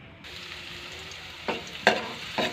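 Garlic sizzles steadily in a hot pan while being sautéed as the base for adobong manok sa gata, a Filipino chicken dish in coconut milk, with three louder stirring scrapes toward the end and no talking.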